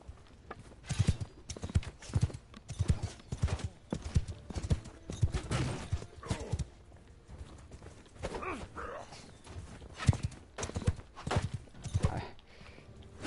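Steady clip-clop of horse hooves at a walking pace in the video game Mount & Blade, repeating rhythmically for several seconds, with faint background noise and occasional distant clatter.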